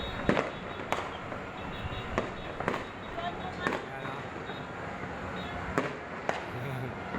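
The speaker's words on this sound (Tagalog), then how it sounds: "Fireworks started." Fireworks burst at a distance in a broad crackling backdrop, with about ten sharp bangs scattered unevenly across the span, while voices murmur underneath.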